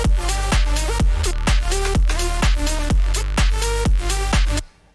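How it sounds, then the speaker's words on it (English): Layered synths from the drop of an electronic track play together, loud and continuous, with sustained chords, bright upper lines and regular heavy low hits on the beat before cutting out at the very end. "So these are the drop synths, and together it sounds like this."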